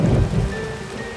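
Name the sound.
thunderstorm with rain and thunder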